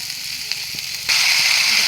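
Egg curry masala with turmeric sizzles as it is sautéed in a pan, a soft fizzing that suddenly grows louder and hisses steadily partway through.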